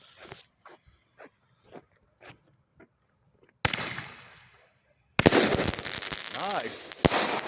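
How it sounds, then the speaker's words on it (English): A Black Cat gatling gun firework goes off outdoors: sparse sharp pops at first, then a loud, dense burst of crackling bangs that runs to the end, with people talking over the noise. "contraband candle versus a black cat gatling gun"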